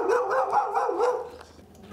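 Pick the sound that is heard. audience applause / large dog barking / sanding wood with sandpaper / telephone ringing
large dog barking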